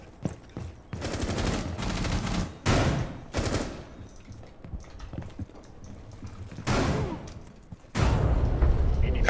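Loud bursts of rapid gunfire come in several volleys with short gaps, ending in a sustained, heavier barrage, from the video game Rainbow Six Siege.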